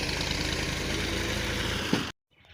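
A tractor engine idles close by in a village, a steady low throbbing that runs for about two seconds before cutting off abruptly into near silence.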